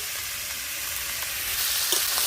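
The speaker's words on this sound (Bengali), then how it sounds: "একসঙ্গে ভালো করে নেড়ে চেড়ে মিশিয়ে নেবো" Chal kumro (ash gourd) frying with a hilsa head in a pan, with salt and turmeric being stirred in. The sizzle is close and steady, with a few soft scraping clicks near the end and no talking.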